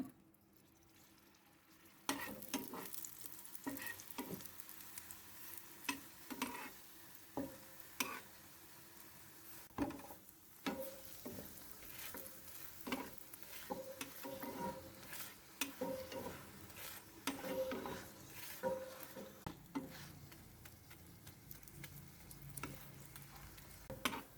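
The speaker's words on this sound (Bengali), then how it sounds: "এখন আমি পরিমাণ মতো তেল দিয়ে দিলাম" Chhena paratha fries in oil on a hot tawa, a steady soft sizzle broken by repeated clicks and scrapes of a spatula turning and pressing the bread, close by with no talking.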